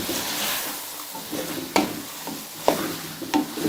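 Bhindi sizzles in a frying pan as it is stirred into spices, a continuous close hiss punctuated by three or four sharp scraping clacks of the spatula against the pan, with no voices.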